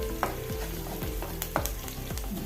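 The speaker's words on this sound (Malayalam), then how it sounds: "വെളുത്തുള്ളി ചതച്ചത് രണ്ടും കൂടി എണ്ണയിലിട്ട് കൊടുക്കാം എണ്ണ ഇളക്കി കൊടുക്കാം" Crushed garlic frying in hot oil for a palak and potato dish, stirred steadily: a constant dense sizzle with rhythmic scraping strokes of the spoon against the pan, close and continuous with no talk.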